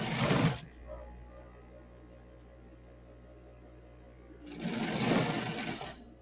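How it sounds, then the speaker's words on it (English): A sewing machine stitches a potholder in two short bursts of close rapid stitching, separated by a few seconds of quiet room tone. "I'm just going to sew that."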